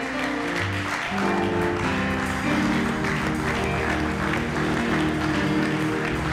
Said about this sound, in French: Est-ce qu'on peut se tenir debout pour acclamer le Dieu Tout-Puissant, le Dieu de gloire?